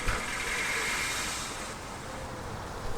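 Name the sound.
car motor running in a story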